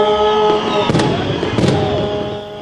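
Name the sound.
New Year's fireworks display in Scranton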